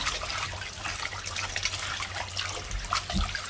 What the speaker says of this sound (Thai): ล้างให้หมดแป้งนะคะ เราจะใช้ น้ำล้างสักประมาณ 2-3 น้ำนะคะ